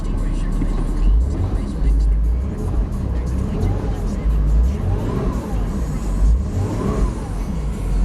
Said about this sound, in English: It revs up nicely, idles smoothly.